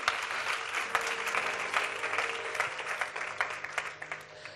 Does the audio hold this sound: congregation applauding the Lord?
yes